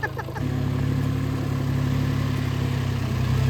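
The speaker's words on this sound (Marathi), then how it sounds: "ट्रॅक्टर राईड सक्सेसफुल झालेली आहे." A farm tractor carrying riders on a Konkan-style agro farm outing chugs with a steady, droning engine hum. It starts with a brief shift in engine note, then runs continuously and close without any voices.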